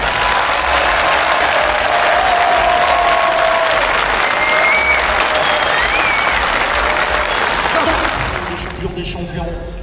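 Applause from a crowd at a young handlers' livestock show contest, loud and steady for about eight seconds before tapering off, with scattered cheering and voices mixed in.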